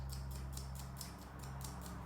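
A small toothbrush scrubs hair off a pet clipper blade, giving quick, rhythmic scratchy brushing strokes, about eight evenly spaced swipes, close and soft over a low steady hum.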